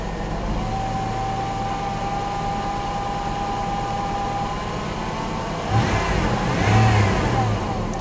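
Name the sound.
truck engine revving with throttle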